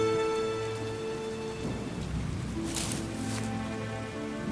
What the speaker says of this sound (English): It began raining